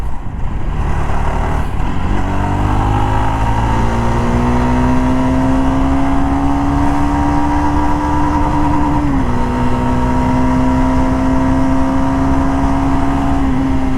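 Jawa Perak BS6 motorcycle engine revving hard and held high, a steady loud drone whose pitch climbs and stays up with a brief dip near the end, with no talk over it.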